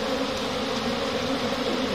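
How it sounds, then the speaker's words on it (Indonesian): Dense swarm of honey bees buzzing around a hive being smoked during beekeeping, a steady close droning hum that fills the air without pause, no voices. "ini banyak lebah nih yang berterbangan karena kita asapi"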